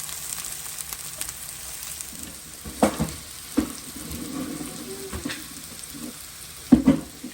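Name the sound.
frying bitter gourd (karela bhaji)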